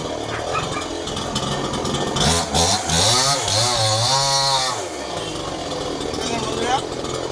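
A chainsaw cutting wood, its engine droning and then revving up and down in a rising and falling whine, loud and fairly close, with people talking over it.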